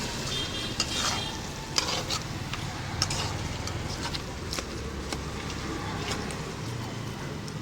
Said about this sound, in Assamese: ভালদৰে ভাজিব দিম।